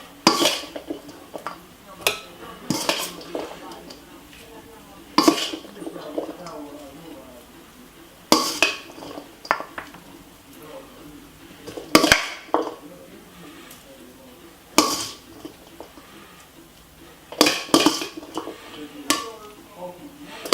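Couscous and fish salad are shared out onto plates, with metal utensils and serving spoons clinking and scraping against dishes in sharp, irregular bursts, heard close and mixed with a voice talking quietly throughout.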